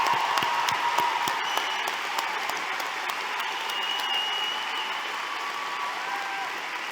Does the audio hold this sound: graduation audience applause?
yes